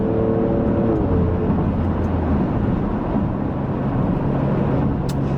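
An Alfa Romeo Stelvio Quadrifoglio SUV in race mode accelerates after a downshift: a loud, close, continuous engine roar with a whirring hum and a shift in tone early on, with no talking.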